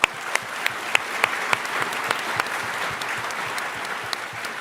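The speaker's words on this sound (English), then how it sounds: "Give her a round of applause." An audience applauds at the Startup Battlefield final, a pitch competition on stage, with a sustained wash of clapping and a few sharp, close individual claps standing out.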